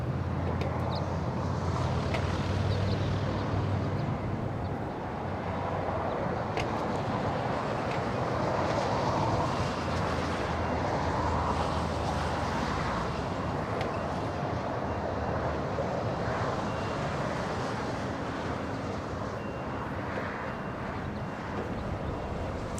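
Airliners on approach into LAX, a faint, distant broad jet roar swelling and fading under steady wind noise for the whole stretch.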